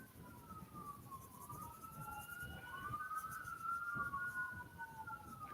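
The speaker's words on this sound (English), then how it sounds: "I can't help when the sirens go off." A distant emergency siren wails up and down in long sweeping tones, fairly faint over a low rumbling background, with no talking.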